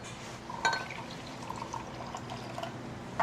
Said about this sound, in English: Now we're going to take a half a cup of this chipotle broth